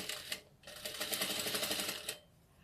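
A sewing machine runs in a quick, even burst of stitching as it reinforces the first seam of a doll dress. It starts and stops sharply, with a brief lighter tap just before, and no one speaks.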